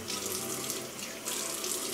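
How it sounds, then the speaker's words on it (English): Bathroom tap running steadily as hair is wet under it, a continuous close splashing hiss of water throughout with no talking. "So I'm gonna get my hair wet again."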